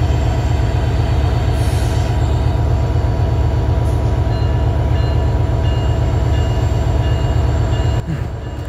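Parjotak Express train with Korean coaches rumbles loudly and continuously on the Dhaka to Cox's Bazar line, wheels drumming on rails, a brief squeal, then the noise drops abruptly near the end.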